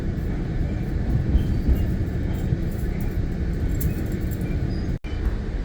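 Steady low rumble of a San Diego passenger train rolling along rails, constant and fairly loud throughout, with faint clatter and a brief dropout near the end.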